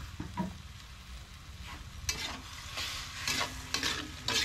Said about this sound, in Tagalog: Tapos halo-halo lang kunti.